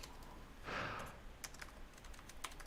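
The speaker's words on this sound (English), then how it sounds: "let me just show you guys some type-in action on this machine" Typing on the keyboard of an Asus Zephyrus G15 gaming laptop: a brief burst of key noise followed by scattered individual keystroke clicks, close and fairly quiet, with no talking.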